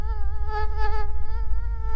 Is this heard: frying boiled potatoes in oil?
no